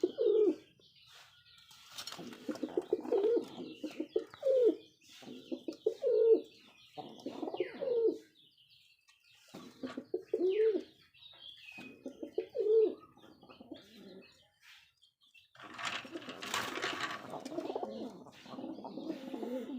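Rajshahi Giribaz pigeons cooing in repeated low, throaty bursts close by, with pauses between calls and a brief flurry of wing flapping near the end; no one talks.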